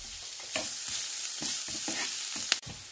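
Onion and minced garlic are stir-fried in a pan, a continuous sizzle broken by repeated scraping and stirring strokes, ending with a sharp clack.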